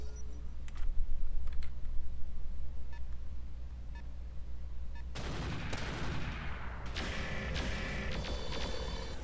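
Mech weapons fire in the Roguetech mod of BattleTech, a sudden dense volley of loud cracking blasts and bursts starting midway and continuing with rattling impacts, after a quieter stretch of low rumble and faint clicks.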